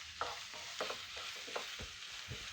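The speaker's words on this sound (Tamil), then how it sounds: "இதோட நெக்ஸ்ட்டு கேபேஜ், இதோட கேப்சிகம் நல்லா கைவிடாமல் ஒரு 2 நிமிஷத்துக்கு பரட்டி விட்டுக்கிட்டே இருக்கேன் நான்" Cabbage and capsicum are stir-fried for egg noodles, a soft steady sizzle broken by repeated scraping strokes of a spatula in the pan.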